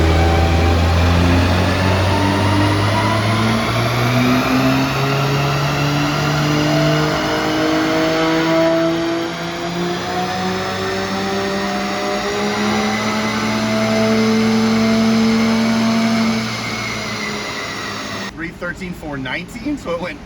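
Volvo with a transverse straight-six engine revving hard on a dyno, the loud engine note sweeping up and down in long pulls before cutting off, with people talking around it.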